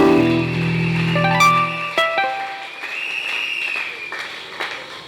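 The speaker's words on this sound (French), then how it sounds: "Applaudissez très fort." A congregation applauds loudly at a French-language sermon on the Song of Songs, the clapping rising out of sustained held tones at the start and continuing as a dense, steady wash to the end.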